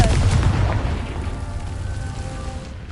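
A Confringo blasting spell explodes in Hogwarts Legacy, a loud close boom with a heavy low rumble that decays over a few seconds into a fading tail.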